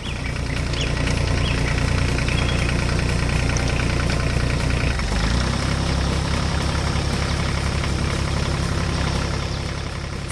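A combine harvester engine starts to move in a farming 3D animation, a steady dense mechanical rumble and drone that fills the whole stretch, loud and continuous with no voices.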